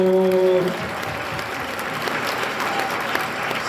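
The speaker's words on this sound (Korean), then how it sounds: "영광의 박수!" A church congregation breaks into applause right after a closing prayer and amen, dense steady clapping that starts as a held tone ends and continues evenly throughout.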